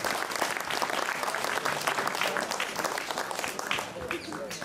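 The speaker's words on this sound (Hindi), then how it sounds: "एक बार मंच के सम्मान में एक बार ताली बजा दो" Dense, steady applause fills a school hall during a poetry gathering at a government higher secondary school in Thunsra, the close, continuous clapping easing slightly at the end.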